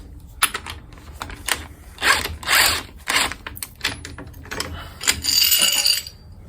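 Impact wrench loosening a front strut bolt on a 2002 Acura TL Type S during a strut replacement: several short, loud mechanical bursts mixed with clicks and clanks, close by, with no speech.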